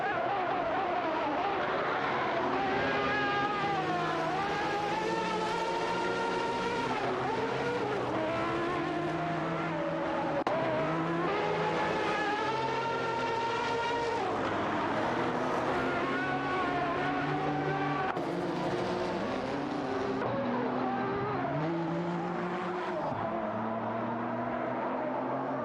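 Race cars in an AI racing stream roar continuously, engines revving up and down through gear changes, with several cars overlapping and tires squealing now and then, loud and constant throughout.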